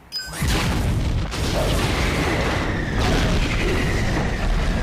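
A bomb detonation in the animated series Star Wars: The Clone Wars erupts as a loud, sustained roaring blast with a sharp onset, rumbling on heavily for several seconds with no talk over it.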